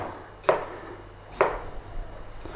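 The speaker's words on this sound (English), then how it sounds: "we're going to slice it long ways down" A knife slices a peeled onion lengthwise on a board. Three crisp, distinct cuts land at an even, unhurried pace, close up, with quiet pauses between them.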